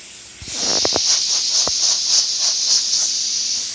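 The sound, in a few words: espresso machine steam wand hissing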